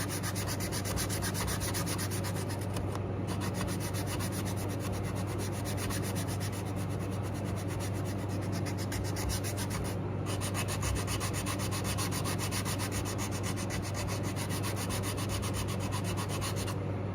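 Sandpaper rubs steadily over the wooden body of a cigar box guitar being repaired, a continuous, close scratching hiss with no pauses and no talking.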